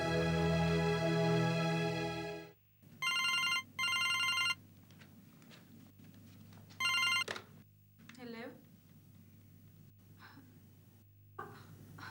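Telephone bell ringing loudly in a Pakistani drama scene, a sustained ring at first followed by shorter repeated bursts, with quiet pauses and some voices in between.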